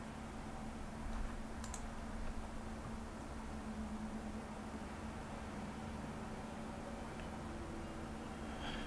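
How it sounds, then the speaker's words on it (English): Soft, rapid clicking of a computer mouse and a click-clack keyboard being typed on, steady and close against a constant background hiss, with a couple of sharper isolated clicks. "Now, if only there was something that I could do to silence my mouse and my click-clack keyboard."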